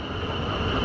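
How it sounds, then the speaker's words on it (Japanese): A steady, rumbling train noise with a broad hiss as a train arrives at Dublin Pearse Station, Ireland, heard close and continuous without any talking. "今着いた電車がですね"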